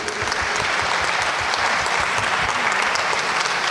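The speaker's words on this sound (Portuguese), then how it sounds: "com a calorosa salva de palmas dos irmãos" A church congregation at a couples' gathering gives warm, sustained applause to welcome guest speakers, a dense, steady wash of many hands clapping nearby.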